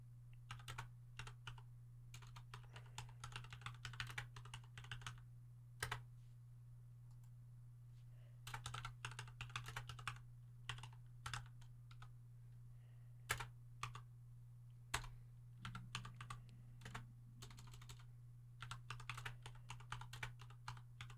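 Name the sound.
typing on a computer keyboard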